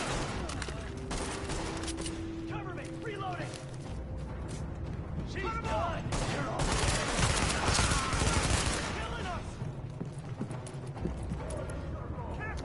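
Rapid bursts of automatic gunfire and scattered shots come from the online shooter game The Division, mixed with other game sounds while a player talks over the action.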